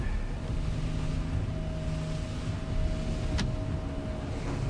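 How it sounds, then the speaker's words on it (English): Constant rushing wind gusting to 50 knots on Georgian Bay buffets the microphone with a low rumble, joined by a steady mechanical hum and a brief sharp tick. "It's blowing like crazy, gusting to 50K."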